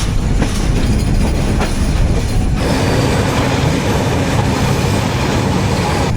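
The Padma Express passenger train runs on rails at night after leaving Dhaka Airport, a loud continuous rumble with rhythmic wheel clatter, heard close from onboard with no talking.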